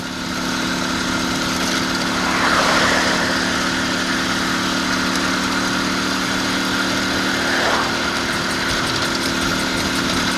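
An IZh Planeta 5 motorcycle engine runs steadily while being ridden, a continuous mid-pitched drone that swells slightly twice as the revs rise and fall, with no voices.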